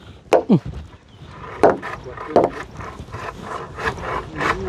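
Nails being hammered into new wooden planks on a roof: several sharp, close thwacks come in an irregular rhythm, with scraping and handling noise between the strikes.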